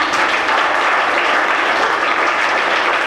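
An audience claps continuously, a dense, steady round of applause that lasts the whole stretch without easing off.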